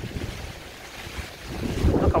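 Waves washing onto a Black Sea beach in Bulgaria on a mild day, a steady low wash with wind buffeting the microphone, swelling louder near the end as a wave breaks close by.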